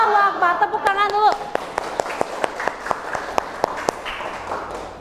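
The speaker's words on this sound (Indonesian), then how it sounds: "Tepuk tangan dulu" An audience of students clapping at a teacher's prompt during a school arts lesson; after a brief voice at the start, a steady series of sharp, evenly spaced claps rings out, moderately loud with faint room murmur beneath.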